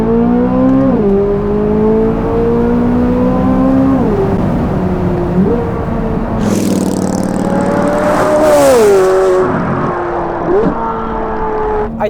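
A C8 Corvette Z06 or Ferrari F8 Tributo sports car accelerating hard through its gears, the loud engine note climbing in pitch, dropping at each quick shift and climbing again, close and sustained with no talk.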